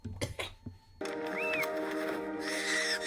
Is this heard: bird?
yes